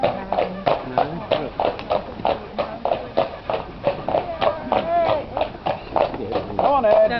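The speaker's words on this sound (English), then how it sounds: "Just let your hooves go clippity-clop." Horse hooves clip-clopping on a street while pulling a cart on a ride around Tenby, South Wales, making a steady, close, loud rhythmic clatter as voices talk over it throughout.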